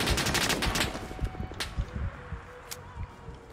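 An ARVN weapon fires in the video game Rising Storm 2, with a rapid burst of loud close gunshots followed by a few scattered single shots as it tapers off.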